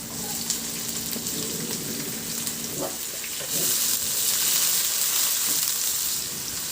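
Garlic and then onion sautéing in a little oil in a pan, with a steady close sizzle and soft crackle throughout and a brief scrape near the middle.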